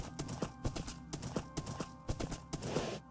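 Rhythmic clip-clop of a horse's hooves trotting in a video game, crisp evenly spaced steps at moderate volume, alone without speech.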